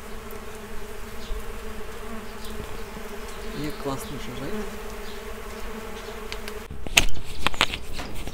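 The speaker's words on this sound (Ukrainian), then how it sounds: "Бджоли жужжать, пташки співають, собаки гавкають, це росте." Bees buzzing steadily around a rural house garden outdoors, a continuous droning hum with a few louder passes, briefly joined by a person speaking and some rustling near the end.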